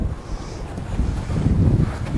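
Low, rumbling wind buffets the microphone in gusts on a golf course at Granville, growing stronger toward the end.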